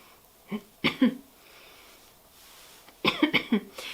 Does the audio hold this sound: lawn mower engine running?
no